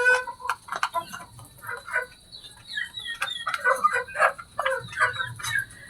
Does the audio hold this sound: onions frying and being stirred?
no